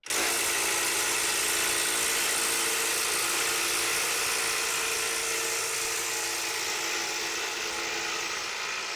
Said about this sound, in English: So let's bring out the impact wrench and put this in reverse and see if we can back this bolt out.